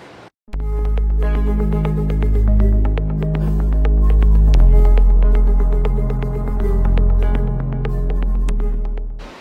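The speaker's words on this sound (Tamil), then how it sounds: "இது வந்து கட்டிங் மிஷின்ங்க." An AAC block cutting machine in a factory cutting section gives a loud steady mechanical hum with a throbbing pulse and faint rhythmic ticking, running continuously without speech.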